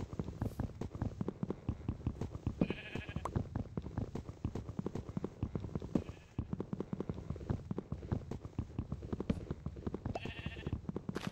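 Sheep bleat a few times in the video game Minecraft, short calls spaced through the clip over a busy run of rapid clicking and tapping game sounds, with a voice talking now and then.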